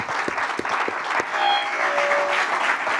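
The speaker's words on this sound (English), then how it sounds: "Let's give her a round of applause." A conference audience applauds a woman being introduced as a trust founder, the dense clapping running steadily and fairly loud throughout without any speech over it.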